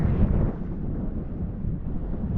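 Gusting wind high on Oregon's tallest mountain, a low rumbling buffet against the microphone that stays strong and steady, with no other sounds over it.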